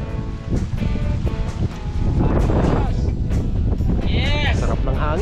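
Strong wind blusters against the microphone in a steady roar while cycling along the seaside, with voices talking underneath and faint surf in the background.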